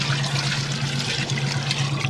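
Water splashing and trickling steadily over a starfish, a close, continuous pour lasting a couple of seconds, with no voices.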